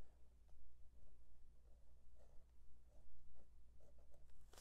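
A dip pen loaded with fountain pen ink scratches across paper in faint, close, irregular strokes and short scrapes, with no talking.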